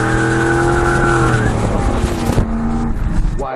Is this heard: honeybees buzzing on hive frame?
no